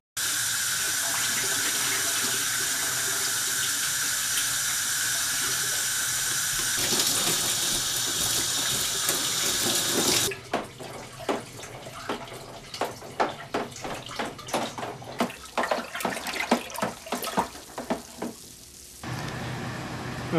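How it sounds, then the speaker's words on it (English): Tap water runs steadily into a fermenter for homemade hobo wine, a loud continuous gush for about ten seconds, then gives way to irregular splashing and trickling before the flow cuts off. "we topped it out to about here with just regular water"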